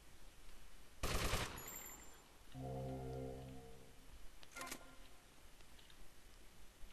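Gunfire from a gun in GTA Vice City, a sharp loud crack near one second and another shorter shot near four and a half seconds, with a droning tonal sound between them.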